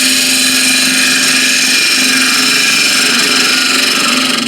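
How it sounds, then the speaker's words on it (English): Woodturning lathe spinning a walnut blank while a square end scraper hollows it out: a loud, steady, close whine and hum of motor and cutting with no break, then a slight drop at the end. "All I want to do is now expand the hole, and again a square end scraper"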